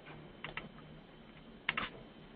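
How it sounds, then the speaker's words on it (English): Typing on a computer keyboard in an office setting, a few soft key clicks in two short bursts separated by a pause, faint and close against a quiet room hum with no voices. "if I start typing"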